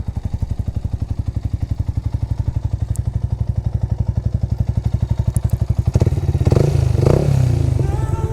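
Yamaha YZF R125 motorcycle engine idling close by with a rapid, steady single-cylinder thump, then revving up briefly near the end with some clatter.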